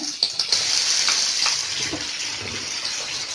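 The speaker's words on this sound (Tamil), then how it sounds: "வெங்காயம் நல்லா வணங்கணும்." Onions fry in oil in a pan, making a bright, steady sizzle close by with a few brief bumps and stirring scrapes near the start.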